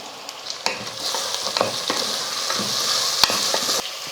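Carrot pieces and curry leaves sautéing in a pan, with a steady close sizzle and frequent scraping stirs and clinks of a spatula, no talking.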